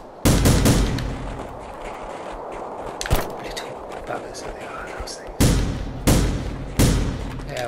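Loud gunshots fired one at a time in the video game The Final Station, with sharp broadband cracks at irregular intervals over a steady background of game ambience.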